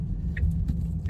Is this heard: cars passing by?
yes